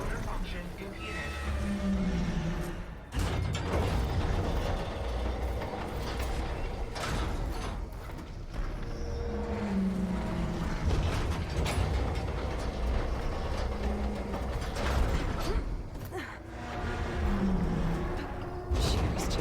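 Jammed machinery grinds and clanks in the video game Horizon, a continuous mechanical rumble with ratcheting creaks and repeated heavy metallic bursts, heard under a voice talking over the game audio.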